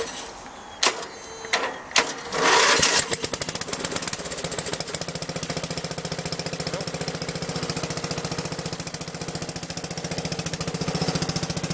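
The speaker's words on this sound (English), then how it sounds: "First thing we're going to do is do a cold start. It's been sitting for all winter long, hasn't started once. A little full choke." MTD lawn mower engine cold-started on full choke after sitting unused all winter: a few cranking bursts, then it catches and settles into a loud, steady rapid chugging idle close by.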